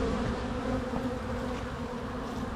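Honey bees buzzing around an opened backyard hive in early spring, a steady close drone from many bees that holds throughout with no voices.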